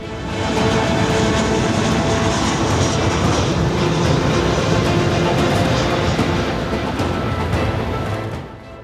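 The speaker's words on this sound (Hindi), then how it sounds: "जब नैन्सी पेलोसी का विमान ताइपेई एयरपोर्ट पर पहुंचा" Airliner arriving at Taipei airport, a loud steady roar of engine and rushing noise that holds evenly for several seconds before easing slightly at the end, with no voices.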